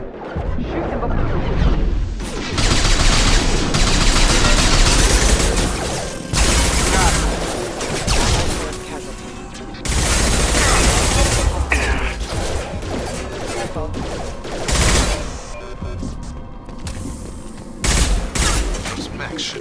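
Repeated heavy gunfire bursts in the sci-fi shooter Mass Effect 2 Legendary Edition, loud fusillades mixed with mechanical clanks and impacts, broken by short gaps across the whole stretch.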